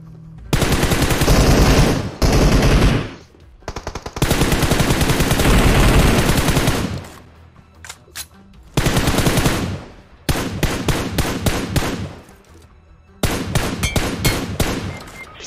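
Automatic weapon fire rattles loud and close in PUBG Mobile, coming in long sustained bursts and shorter volleys separated by brief pauses.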